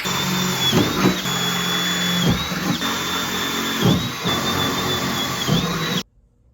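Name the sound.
drilling holes for bolts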